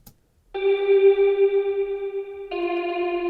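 A sustained electric guitar note rings out, drenched in reverb and chorus-like shimmer, then shifts to a brighter chord partway through.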